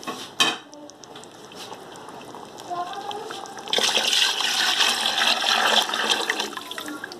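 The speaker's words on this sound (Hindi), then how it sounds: "और अब इसमें मैं पानी ऐड करूंगी।" Water is poured into a cooking pot while preparing prawn pulao: a sharp utensil clink comes first, then a loud, steady gushing pour takes over for the second half.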